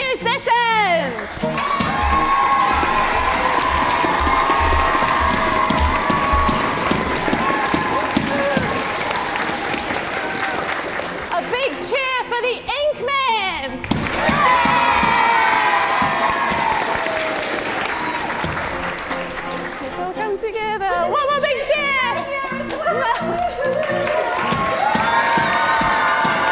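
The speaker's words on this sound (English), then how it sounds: "A big cheer for the musicians!" An audience at a live children's theatre show cheers and claps loudly for the musicians, with sustained applause, whoops and children's shouts swelling in waves across the stretch while an adult voice calls out over the crowd.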